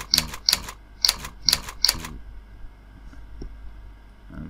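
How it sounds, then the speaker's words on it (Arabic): Keys on a computer keyboard clack in a quick burst of about eight sharp presses, some close together in pairs, followed by a quieter stretch of faint room noise with no talking. "دوس مثلا حرف الدي، بعد كده مثلا حرف الكي"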